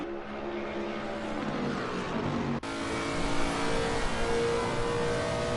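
GT3 race car engines, a 600-plus horsepower number 9 Bentley and number 2 Lexus GT3, at the Paul Ricard circuit in a sim race, drone steadily at high revs with a brief dip midway.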